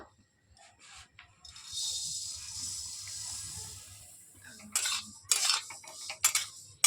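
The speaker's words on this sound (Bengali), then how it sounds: "কড়াইটা পরিষ্কার করে আবার উনুনে বসিয়ে নিয়েছি এবার তিলগুলো ভেজে নেবো" Sesame seeds roast in a wok on a stove, with a metal spatula scraping and clinking against the pan in bursts over a soft steady hiss.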